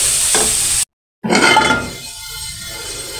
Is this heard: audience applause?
no